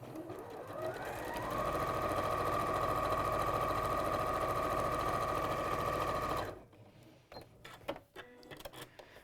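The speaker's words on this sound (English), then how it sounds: "we're going to sew 1/4 inch or thereabouts" A sewing machine runs a quarter-inch seam along a fold in quilt-as-you-go fabric, a steady close mechanical hum for about five seconds that then stops, followed by a few small handling clicks.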